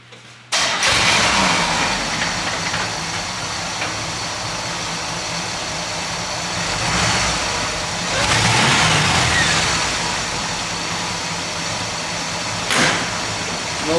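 A 1972 GMC engine cranks briefly and catches, then settles into a loud, steady idle with a couple of mild rev swells, close by and free of talk.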